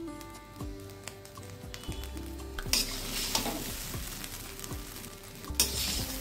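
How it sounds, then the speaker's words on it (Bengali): Cauliflower rice with ghee being stirred in a pan gives soft scraping strokes and a low sizzle, repeated at a steady pace, quiet and close. "ঘিটা দেওয়ার পরে আর 30 সেকেন্ড নাড়িয়ে"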